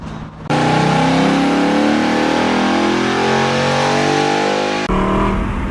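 A 2018 Mustang with a 5.0L V8 and Da Silva Racing intake accelerates hard, its engine roaring loud and close with a rising drone that holds for several seconds, then briefly drops as it shifts and pulls again.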